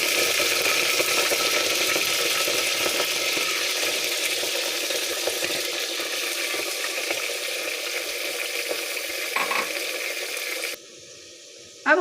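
Meat sizzling in hot oil for Kashmiri mirchi korma, a steady close crackling fry that holds for about ten seconds before cutting out.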